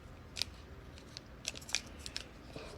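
Paper is squeezed and folded while shaping an origami dragon, giving several soft, sharp crinkles and snaps scattered over a quiet background, close and fairly faint.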